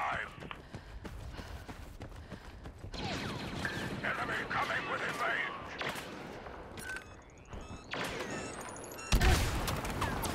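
Gunfire in a co-op shooter video game, scattered shots and impacts over busy game sounds, with players talking over the action.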